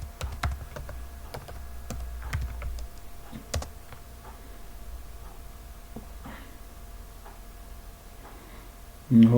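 Someone types a password on a computer keyboard with sparse, light key clicks at an irregular pace in a quiet room, ending with a louder thump.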